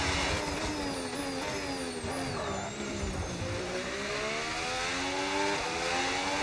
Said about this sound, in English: so I was talking about the Cadillac car sound